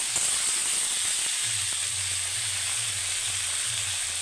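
Potatoes and tomatoes frying in a pan for an Assamese-style sesame broiler chicken dish, a continuous loud hiss and sizzle with a low hum underneath, no speech.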